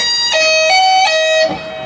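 A quick electric guitar lick of a few legato notes from a solo, hammered and pulled in a fast rhythm, rings out bright and sustained with a heavily effected tone.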